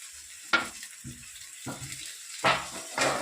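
Potatoes, carrots, spring onion, spinach and chili hit a pan for fried rice, a quiet background with several separate bursts of sizzling and scraping, close and moderately loud, no talk.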